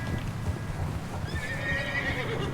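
A horse whinnies loudly over steady clip-clopping hooves in Red Dead Redemption 2, with rumbling game ambience underneath.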